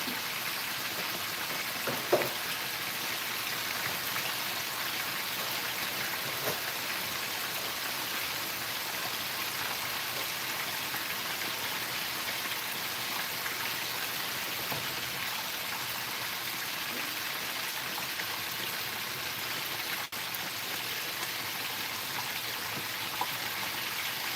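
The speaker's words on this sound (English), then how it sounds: "So I'm just frying it up" A steady, even sizzle of lightly breaded fish frying in hot oil, with faint occasional pops, continuing without a break.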